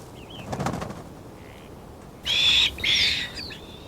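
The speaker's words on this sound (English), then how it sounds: "The noisy caracara chicks seem to have an endless appetite." Caracara chicks give high, thin calls in the wild: a faint early cheep, then two loud overlapping squeals close by, trailing off into softer calls.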